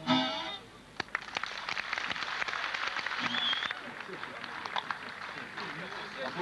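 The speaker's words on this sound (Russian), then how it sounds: "Аплодисменты." An audience at a live performance of Russian song or poetry claps continuously for several seconds, a steady dense patter of many hands heard from within the hall.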